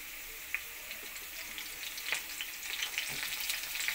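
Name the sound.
potatoes and pumpkin frying in a pan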